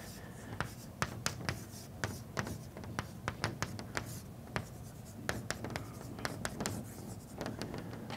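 Someone writes on a board during a mathematics lecture, with irregular taps and scratchy strokes running steadily throughout under faint room noise.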